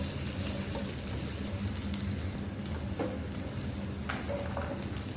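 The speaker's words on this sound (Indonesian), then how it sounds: "Kalau udah panas tinggal ditumis bawang merah sama bawang putihnya." Shallots and garlic sautéing in hot cooking oil give a dense, continuous, close sizzle and crackle that holds evenly throughout, with no voices.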